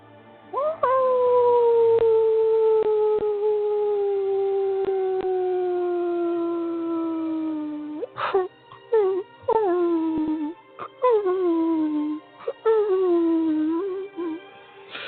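Wolves howl in a long, loud, sustained call that slowly falls in pitch, followed by a run of shorter rising and falling howls with brief pauses between them, close and clear with no other sound.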